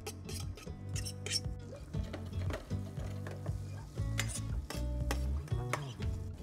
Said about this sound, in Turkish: Tekrar peynirleri tavaya geri ekliyorum.